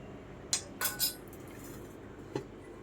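A small metal spoon clinks against a dish while garam masala and other spices are added to a paneer tikka mix: a few sharp, bright taps close together, then one more after a pause, with no talking.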